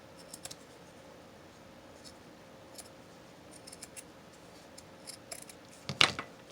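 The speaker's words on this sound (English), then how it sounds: "I think I'm going to just cut a little bit of the edge off a little bit" Scissors snipping the edges of paper pieces for a winter-birds junk journal: quiet, scattered small cuts through the clip, ending in one louder, sharper snip near the close, with no talk.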